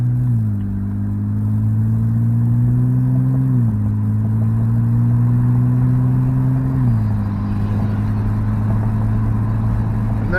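A BMW 328i with the muffler deleted accelerates normally with the windows down. The engine drone rises steadily in pitch, dropping briefly at two gear shifts, and stays loud and close throughout.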